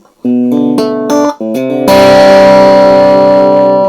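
A clean electric guitar through a Fender Japan amp's clean channel rings out in sustained chords with a few brief gaps, then a full strummed chord swells and holds, bright and close.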